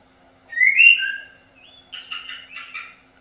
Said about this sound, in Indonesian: Jadi kalau ada suara burung, suara ayam, jadi mohon maaf.